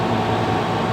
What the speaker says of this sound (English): of course, I have the air conditioner running.